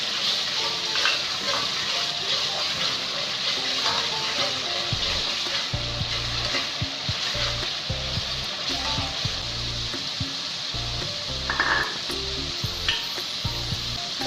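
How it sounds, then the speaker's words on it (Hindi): Water added to a sizzling masala in a pan for an egg curry, steady loud frying hiss with splutters and stirring scrapes, a brief gush of liquid partway through, close up, no talking. "अब इसमें मैं थोड़ा सा पानी डालूंगी ताकि ये अच्छा सा भुन जाए।"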